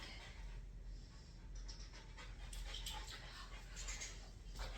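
A puppy pants softly and steadily, close by but faint under low background hiss.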